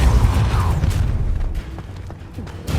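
A Depulso spell strikes during combat in the video game Hogwarts Legacy, giving a loud, deep booming rumble that thins out and fades over a couple of seconds.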